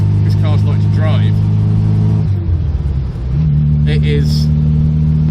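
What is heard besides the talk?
1968 MG Midget Mark III car being driven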